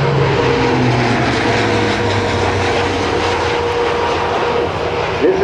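A C-130J-30 Hercules transport with six-bladed Dowty propellers flies past at an airshow, its turboprop engines producing a loud, sustained roar with a droning tonal hum that shifts slowly in pitch.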